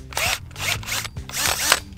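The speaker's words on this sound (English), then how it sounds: "Let's drill some holes." An electric drill bores pilot holes with a 3.2 mm bit for an HEO lock install on a Promaster van conversion door, running in three short whining bursts close by.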